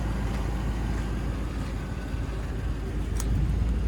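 A 2002 Range Rover P38 Westminster's V8 engine runs at a steady low burble outdoors, heard alone as a continuous deep rumble with a light whoosh of air over it.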